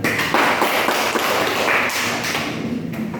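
A classroom of students applauds a classmate, a dense burst of claps and taps that runs steadily for about three seconds at close range, with no talking.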